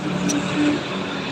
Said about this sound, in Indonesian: Sedang karajo membawa oto ini